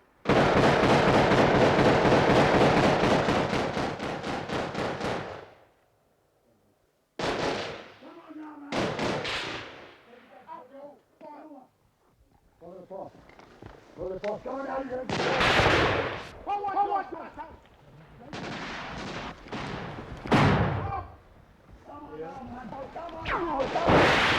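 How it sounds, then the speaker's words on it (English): Army battle-camp training with live ammunition: a long, loud roaring blast opens, followed by a series of sharp, separate gunshots and explosive thuds, some close and some more distant, with voices between them. "Battle camp training is made as realistic as possible. Live ammunition and no holds barred in the toughening up process."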